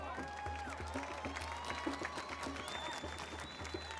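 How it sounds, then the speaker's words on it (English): A large outdoor crowd at an anti-racism protest in Washington keeps up steady applause and cheering, dense and far-off, with whistles and shouts rising over it throughout. "give him a round of applause"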